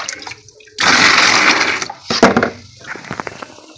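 Water pours into a bucket in a heavy, splashing rush for over a second, followed by clattering and a few smaller sloshes and knocks, close and loud.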